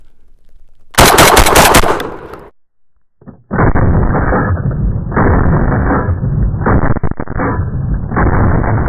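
A Panzer Arms BP12 Gen 2 shotgun fires outdoors in rapid succession, a loud burst of close blasts followed by further sustained reports with brief gaps between them.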